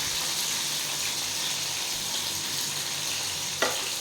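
Fish fries in a pan with a steady, close sizzle that holds level throughout, broken by a single brief knock near the end, and no one speaks.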